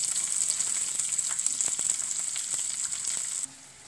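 Onion frying in a pan for an aval snack, a bright hissing sizzle with light scattered crackles, close and continuous before dropping off abruptly near the end.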